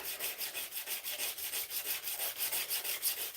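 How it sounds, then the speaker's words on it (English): A knife blade is sanded by hand with steady back-and-forth strokes, about four per second, giving a rhythmic, close scraping rasp with no talk. "You can actually kind of see the knife being sanded."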